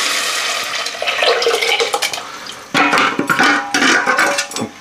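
Gram flour and yogurt batter is poured into a pan of onions, bringing clattering stirring, scraping against the pan and soft sizzling bursts in close, uneven pulses.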